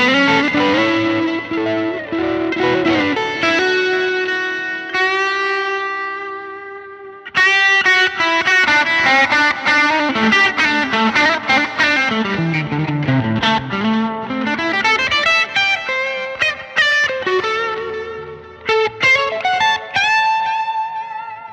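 An electric guitar lead runs through a cranked Brown amplification amp with distortion, delay and reverb, playing bends, sliding runs and sustained notes at high volume, with a brief pause midway and no talking.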